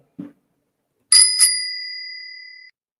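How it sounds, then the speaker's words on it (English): A notification bell sound effect follows a short soft tap, then two quick bright metallic dings that ring out cleanly and fade over about a second against silence. "hit that notification bell"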